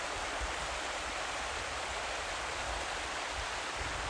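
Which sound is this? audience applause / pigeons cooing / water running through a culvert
water running through a culvert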